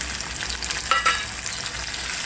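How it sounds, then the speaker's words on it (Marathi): Onion with tomato added fries in a pan for a homemade bombil, cauliflower and potato dish, sizzling softly and steadily with a couple of brief stirring clinks near the middle. "आपला कांदा भाजत आलेला आहे, यामध्ये आपले टोमॅटो टाकायचे"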